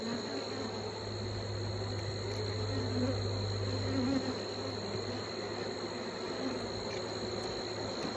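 Honey bees buzz on a brood frame pulled from a hive during a fall mite check with an alcohol wash, a dense, steady drone of many bees heard close and continuous throughout.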